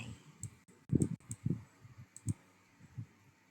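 Computer mouse clicks while working through a spreadsheet column during an accumulated-depreciation check, a scattered series of soft, close clicks at irregular intervals over a quiet background.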